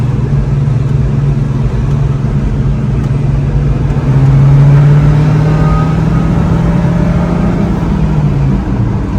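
A Geo Tracker's engine revs and drones on a blacktop road while the transmission fails to shift up, one loud sustained rumble whose pitch rises slightly and then holds, with no gear change.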